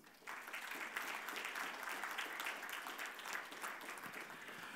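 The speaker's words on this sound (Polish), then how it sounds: "Ogromne brawa." An audience at a foundation thank-you ceremony claps for the foundation board, a steady wash of applause from a crowd that holds for several seconds.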